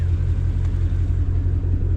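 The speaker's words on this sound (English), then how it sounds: "Okay, so the car is running" Ford Shelby GT350 idles with a low, steady, rumbling burble, close and constant with no voices.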